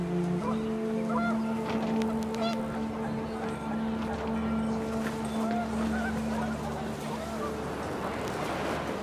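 Panicked geese in the What Remains of Edith Finch video game honk amid windy gusts, with a sustained tonal layer running steadily underneath.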